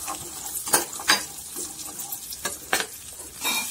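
Peas frying lightly in a pan for pav bhaji, giving a soft steady sizzle broken by several brief stirring scrapes and clinks, close and moderately loud, with no talk.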